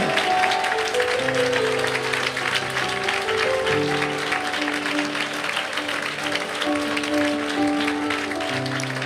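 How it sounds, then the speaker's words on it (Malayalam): A worship congregation claps along steadily with continuous music throughout, the clapping a dense, even wash under the sustained tones. "കൈയടിക്കുന്ന നേരെ കൈയടിച്ച് ആരാധിച്ചേ."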